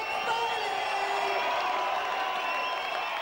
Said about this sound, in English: it's the applause of a rock concert for the model Greg Foley